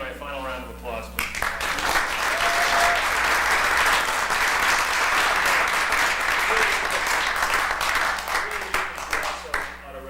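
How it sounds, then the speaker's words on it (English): A council meeting audience gives the Glen Ridge Marching Band a final round of applause, dense steady clapping swelling quickly and holding for several seconds before thinning out. "final round of applause, please"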